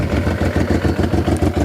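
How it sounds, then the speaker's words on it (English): A Honda Africa Twin motorcycle with an aftermarket exhaust idles nearby, its engine thumping in a steady, even loping rhythm with a deep low burble, loud and alone. "It's an aftermarket exhaust, so it's got a different tone, but it sounds pretty darn good."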